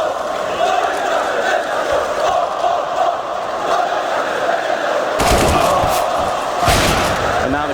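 A live crowd at the PGL Krakow 2017 CS:GO quarterfinal between North and Virtus.pro roars steadily, swelling with loud bursts of cheering near the end while a caster talks over it.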